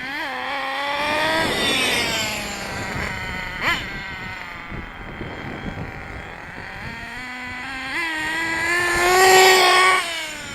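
A Lightning2 B engine runs in cold, windy outdoor air at full throttle, its rising harmonic revs climbing, dipping and climbing again across the clip, loud and close with no talk over it.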